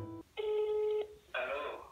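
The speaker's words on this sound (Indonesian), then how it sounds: "Langsung saja saya telepon beliau." Telephone call being placed, with steady ringback tones in two long bursts separated by short gaps, loud and close, ahead of the answer.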